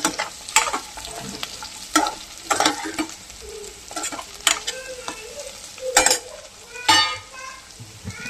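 Tofu cooks in a pan with a capsicum dish, a steady sizzle broken by sharp scraping stirs that come every second or so, close and fairly loud.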